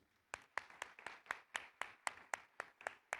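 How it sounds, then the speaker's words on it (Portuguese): Slow, evenly spaced claps at an event in Portugal, about a dozen distinct hits in steady rhythm, sounding like a few people clapping rather than a full crowd. "peço um aplauso para ela também"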